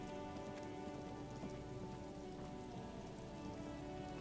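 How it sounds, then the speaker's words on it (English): Steady, dense rainfall pattering on surfaces in the video game Disco Elysium, a continuous even wash of drops with no voices. "It is raining."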